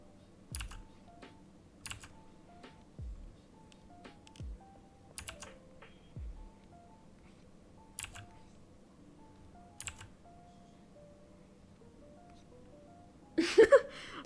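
Scattered, loud keyboard clacks at spaced intervals over a quiet melody, ending with a brief rustling clatter.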